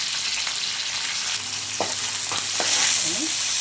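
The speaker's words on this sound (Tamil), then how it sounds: "ஒரு கொத்து கருவேப்பிலை, ஒரு 3 சன்ன இருக்குன்னா சின்ன வெங்காயம் வந்து 1 கப்பு, பெரிய வெங்காயம் 1 கப்பு, எல்லாம் சேர்த்து தாளிச்சிக்கலாங்க." Curry leaves with small and large onions tempering in hot oil for a mini sambar idli, giving a steady loud sizzle and frying crackle with a few soft stirring scrapes.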